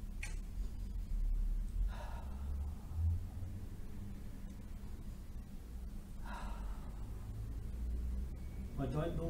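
Deep breathing while holding a raised-arm press in a shoulder exercise: a few audible breaths spaced several seconds apart over a steady low room hum.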